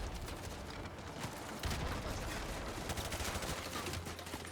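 Sustained suppressing gunfire in a Call of Duty shooter, dense overlapping rifle and machine-gun bursts rattling continuously and loudly, with heavier reports mixed in and no pause.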